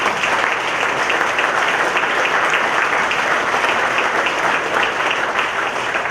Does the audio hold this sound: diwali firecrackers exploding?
no